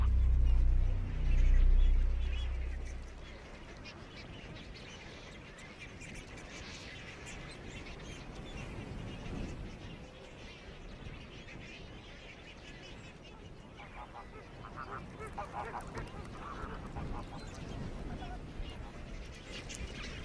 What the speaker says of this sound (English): thousands of chicks now embark on a forced march